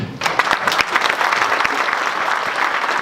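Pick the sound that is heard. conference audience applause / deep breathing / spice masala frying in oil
conference audience applause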